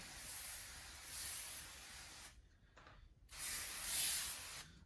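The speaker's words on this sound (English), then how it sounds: "So just spray it generously." Two long hissing bursts of soapy-water spray from a bottle as tire-mounting lubricant on offroad tires, each lasting about two seconds, separated by a brief quiet gap.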